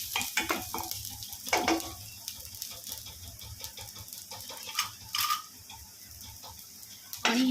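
Ginger and garlic frying in a pan, a soft steady sizzle close by, broken by a few scraping stirs and clinks of the spoon against the pan.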